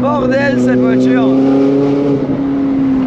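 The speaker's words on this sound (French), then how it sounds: "Mais elle fait un bordel cette voiture." A Ferrari engine roars loudly from inside the moving car, a steady harmonic drone holding its pitch, while someone talks over the first second.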